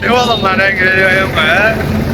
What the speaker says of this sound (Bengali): অনেক নৌকা চলাফেরা করতেছে